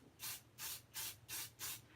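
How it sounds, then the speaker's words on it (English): Thermoweb Glitter Dust silver spray from an aerosol can, five short hissing bursts in an even rhythm, close and clear with quiet gaps between them. "I'm going to go ahead and spray that off camera quick."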